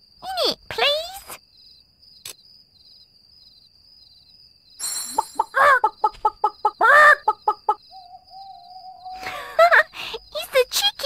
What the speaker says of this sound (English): It's a chicken! A chicken!